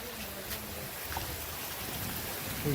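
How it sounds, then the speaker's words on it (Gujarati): Steady rain patters down at a hillside temple site, a soft, even hiss of drops with no pauses, with a faint low voice briefly surfacing near the end. "ખાલી પાંચ મિનિટ વરસાદ પડ્યો"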